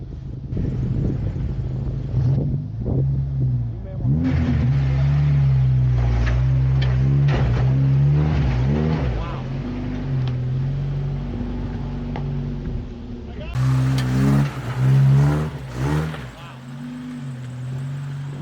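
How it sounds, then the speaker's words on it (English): A 1997 Jeep TJ crawls through an off-road obstacle, its engine droning steadily up close with revving surges, knocks and rattles, while voices call out over the motor. "we just got the 97 TJ to go through that obstacle with me driving"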